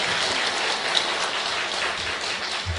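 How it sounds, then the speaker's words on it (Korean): A church congregation claps together in a dense, steady wash of applause that holds at an even level for a few seconds, with no speech over it. "우리 아이들을 위해서 박수 한번 해주시죠"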